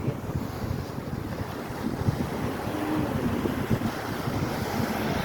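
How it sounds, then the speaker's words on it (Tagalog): Ocean waves wash against a rocky shore in steady, continuous surf, with wind buffeting the microphone throughout and no talking. "ang mga waves are waving"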